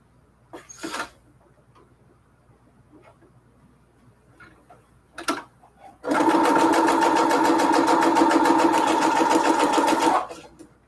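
A sewing machine stitches through junk journal pages in one continuous, steady, rapid whirring run of about four seconds. Before it, a few isolated clicks and knocks sound in a quiet room.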